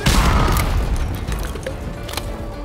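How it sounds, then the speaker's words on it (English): A grenade launcher round explodes in Call of Duty: Modern Warfare 2 Remastered, a loud booming blast at the start that rumbles and slowly decays, with scattered debris and faint later pops. "Oh, grenade launcher."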